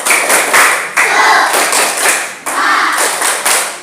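A class of pupils performs a rhythmic spirit clap in a classroom, loud and close, with bursts of clapping broken by short pauses into repeated patterned sections.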